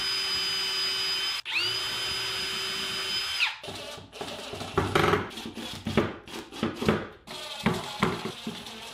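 Power drill driving screws into an ash wood live-edge side table, a high steady whine held for a few seconds, a brief restart, then choppy bursts of grinding and knocking as the screw bites, close and without talk.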